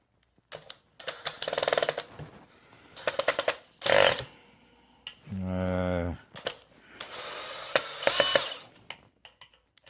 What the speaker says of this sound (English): No, I need my drill.